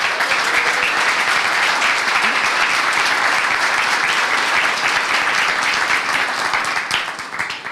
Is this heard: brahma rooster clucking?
no